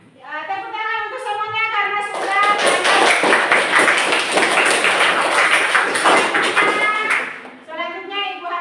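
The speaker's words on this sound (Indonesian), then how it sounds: "Tepuk tangan untuk semuanya" Schoolchildren in a classroom applauding: a dense burst of many hands clapping for about five seconds, loud and close, framed by a teacher talking before and after.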